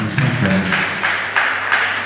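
An audience claps at a live school music event in a hall, steady mid-level applause from a crowd, with faint voices mixed in.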